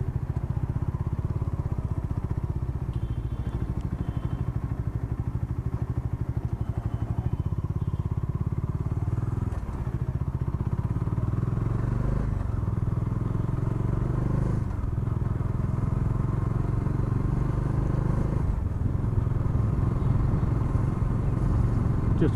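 A Bajaj Dominar 400 BS6 motorcycle engine drones steadily throughout a ride, with a continuous low rumble and road noise, loud and close.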